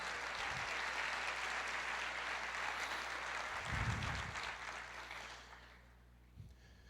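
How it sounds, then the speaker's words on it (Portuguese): A church congregation applauding, a dense, fairly distant wash of clapping that swells, then tapers off and thins out near the end. "Dê uma salva de palmas para o Senhor."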